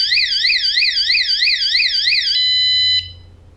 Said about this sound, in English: Set your alarm, off you go. Someone messes with your bike.